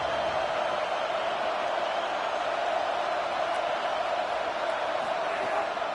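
Steady roar of a stadium crowd in a college football video game, a dense, continuous wash of distant cheering that holds even and loud throughout with no clear voices standing out.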